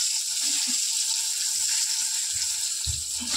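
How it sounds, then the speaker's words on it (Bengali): Pointed gourd (potol) frying in a pan of oil, a steady bright sizzle close up with a few soft clinks and stirring knocks near the end. "তো দেখো পটল ভাজা হয়ে গেছে"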